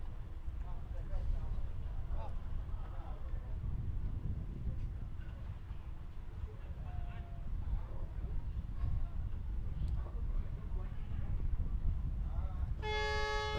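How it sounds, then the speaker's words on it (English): An air horn sounds briefly near the end to start a race, a loud harmonic blast cutting in above a steady crowd and engine rumble, with a commentator speaking throughout. "Okay, the air horn has sounded."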